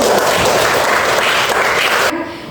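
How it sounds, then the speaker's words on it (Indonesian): A classroom of students applauds together, a dense, loud burst of clapping that continues steadily for about two seconds and then cuts off. "Semuanya tepuk tangan dulu"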